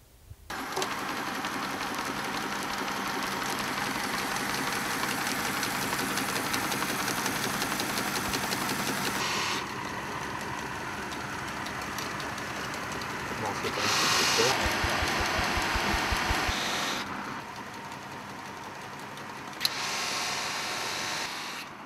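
An old motor driving wooden pulleys and bearings runs steadily in a knife-maker's workshop in Arconsat, a continuous mechanical drone with rhythmic knocking that shifts in tone partway through.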